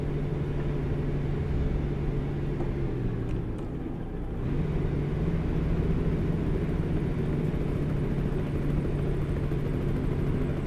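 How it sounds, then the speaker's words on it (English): Helicopter passing overhead in American Truck Simulator, a low rotor rumble blended into a constant truck engine drone, holding steady throughout. "Here, a chopper."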